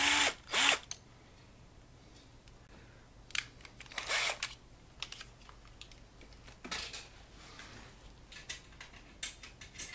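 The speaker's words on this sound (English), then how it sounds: "Now debur this this hole from both sides with a larger drill." A hole being deburred from both sides with a larger drill during amplifier power tube wiring work, heard as several short bursts of drill whirring separated by quiet pauses, close and without talk.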